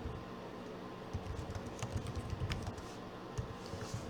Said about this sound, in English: I'm just typing it here to show you a demonstrate, what it would look like.